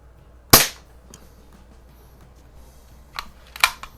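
A Daisy BB gun fires: one sharp, loud snapping shot, then quiet, a faint click about three seconds later and a second crisp shot right after, close to the microphone.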